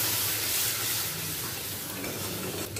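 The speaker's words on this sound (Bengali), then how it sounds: "বাটি ধোয়া জলটাও দিয়ে দিচ্ছি।" Water poured into a pan of frying spices, cashews and poppy seeds for Bengali shukto hisses and sizzles steadily, close and fairly loud, with faint stirring and no talk.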